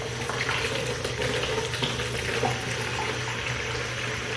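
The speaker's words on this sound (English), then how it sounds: "So we're gonna rinse it off because some of the scale is still on it." A kitchen tap runs steadily while salmon with a few scales still on is rinsed under it, a constant, even splashing hiss with no speech.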